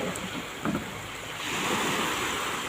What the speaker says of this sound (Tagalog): Naabutan tayo ng malakas na hangin at saka ulan.